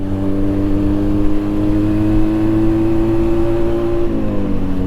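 A motorbike engine drones loudly and steadily on a highway between Lamjung and Kathmandu, its tone holding level before dropping slightly near the end, with no talking.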